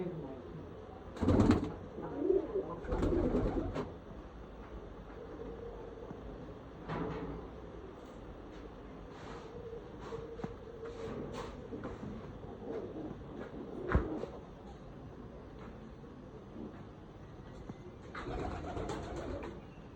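Pigeons coo at a pigeon farm, their low throaty calls coming close and loud at first, then softer and scattered among occasional knocks and clatter.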